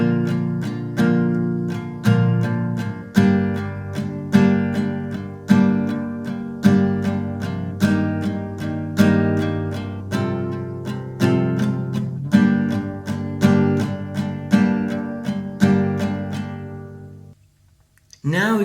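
Acoustic guitar playing the second-verse chords of a song, a steady pattern of repeated strums with chords ringing and decaying, close and alone, ending in a brief pause and a fresh pluck.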